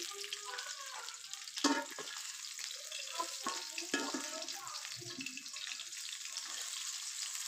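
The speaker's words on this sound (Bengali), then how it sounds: "মাছগুলো আমি আরেকটু নাড়াচাড়া করে লালচে করে ভেজে উঠে নিব" Tilapia fish fry in a pan while being stirred and turned, a moderate sizzle broken by scraping stir sounds and a few louder knocks, with some watery, tap-like hiss mixed in.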